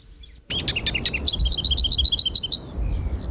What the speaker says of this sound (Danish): de fleste fugle har æg i rederne, så hannerne fylder skoven med sang